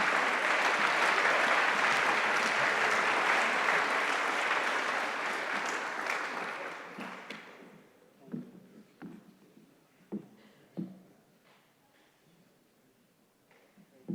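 An audience at the 2019 DePauw University Athletics Hall of Fame ceremony applauds loudly and continuously. The clapping fades away after about seven seconds, leaving a few scattered claps and small knocks in a quiet hall.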